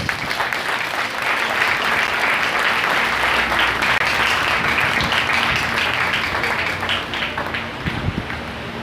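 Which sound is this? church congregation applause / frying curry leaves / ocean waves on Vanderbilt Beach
church congregation applause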